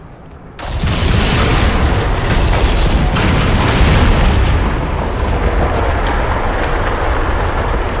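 A detonation in Dragon Age Inquisition: Trespasser bursts in loud and close, then gives way to a sustained heavy rumble like rushing water or collapsing rock, filling the rest of the moment with dense low roar and no voices.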